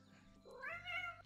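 A cat meows once in the video game Alchemist: The Potion Monger, a short, clear, rising and falling meow that stands alone with no speech over it.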